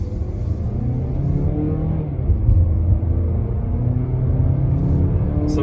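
A 2019 Mazda3 accelerates hard on a highway, its engine revving up to about 5,000 RPM. The drone builds with a loud, rising rumble heard from inside the car, continuous and without talk.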